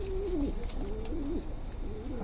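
A young, sick, emaciated pigeon coos softly inside its cage, a few low rolling coos repeated close by with no other sound.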